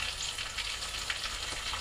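Pieces frying in hot oil in a home kitchen before being made into gravy, giving a steady, close crackling sizzle throughout with no voices.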